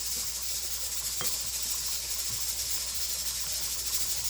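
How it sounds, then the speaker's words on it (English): A steady, high hiss of escaping steam from a pressure canner runs continuously in the background, with a couple of faint clicks over it. "You can hear the canner going in the background"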